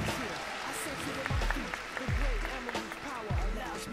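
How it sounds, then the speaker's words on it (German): Audience applauds at a cosplay contest on a convention main stage, a steady wash of clapping from a crowd, with an amplified voice speaking over it. "Ein Applaus!"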